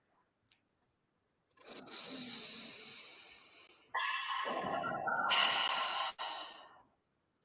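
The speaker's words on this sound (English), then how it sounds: "So let's take a deep breath." Two slow, deep breaths taken close up, a long airy inhale followed by a louder, breathy exhale that cuts off sharply.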